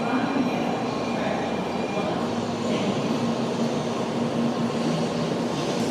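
Japanese Shinkansen bullet train, 500 series, heard as a continuous steady rumble and whoosh of rail travel with a faint hum, constant and fairly close, no talk.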